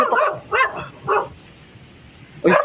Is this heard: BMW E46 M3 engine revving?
no